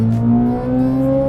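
A Chevrolet Corvette C8 Z06 on its stock exhaust revs up close, a loud, deep, steady engine drone that rises slightly in pitch over a brief moment, with no talking.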